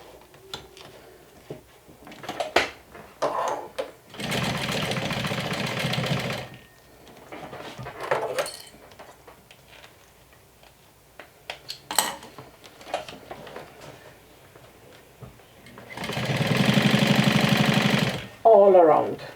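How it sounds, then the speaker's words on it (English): Sewing machine top stitching around a medium crossbody tote bag, running in two sustained bursts separated by quieter handling clatter and a voice talking. "I'm going to top stitch"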